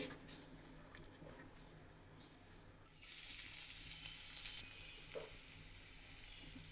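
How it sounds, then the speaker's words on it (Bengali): Chopped onion tossed into a hot kadai after frying eggs sets off a sharp sizzle midway through, rising from near-silence to a steady close hiss and crackle. "আমি এই কড়াইতে কিছুটা পেঁয়াজ কুচি দিয়ে দেবো"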